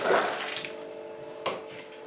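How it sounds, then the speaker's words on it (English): Water splashes from a tap into a sink, close by, with a soft clink of dishes midway. "I'm going to put some more hot water in that, let it soak,"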